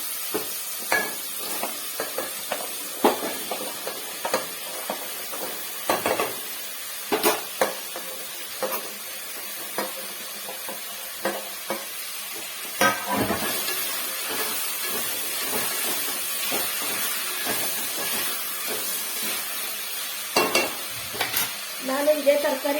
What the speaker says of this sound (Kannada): ಟೊಮೊಟೊ ಜೊತೆಲೇ ನಾನು ತರಕಾರಿ ಕೂಡ ಹಾಕೋತಾ ಇದ್ದೀನಿ